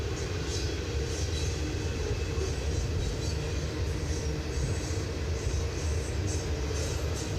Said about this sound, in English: another loaded train.